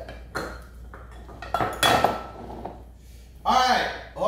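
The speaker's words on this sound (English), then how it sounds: "Please help your sister carefully stir the rest of that in there" A mixture is stirred in a bowl with utensils, giving irregular clinks and scrapes of metal against the dish, close by and moderately loud, with children's voices and brief talk mixed in.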